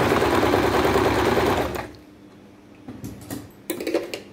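A sewing machine runs steadily for a couple of seconds while stitching petticoat fabric, then stops, followed by scattered light clicks and fabric handling sounds close by.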